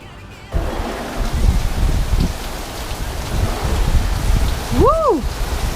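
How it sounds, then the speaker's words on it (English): Heavy rain driven sideways in a storm pours down steadily and loudly on a porch, a dense continuous wash with a brief whoop of a voice near the end. "it's raining really hard again"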